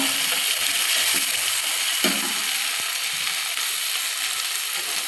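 Chopped tomato fries in a pan for chicken curry, giving a continuous close sizzle with a few soft stirring knocks, and no talk.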